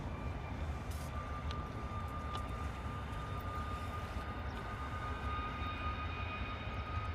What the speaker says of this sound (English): another Ryanair 737 out the door, off to Athens.